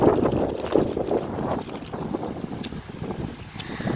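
Wind gusts buffet the microphone in a steady low rumble outdoors, with a few brief clatters and rustles scattered through.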